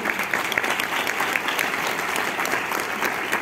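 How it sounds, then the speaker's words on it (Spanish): Steady, dense applause from a large audience at a legislative talk on Mexico's space program, continuous and even throughout with no voices standing out. "Un aplauso, por favor"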